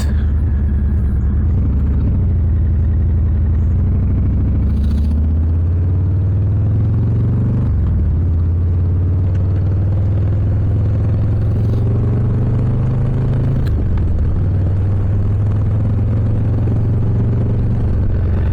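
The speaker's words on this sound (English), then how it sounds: "The ultimate motorcycle right here. Harley Davidson Lowrider S." Low, steady engine rumble from a 2023 Harley-Davidson Low Rider S, pitch rising and falling as gears shift, plus heavy wind buffeting while riding down a road in Washington.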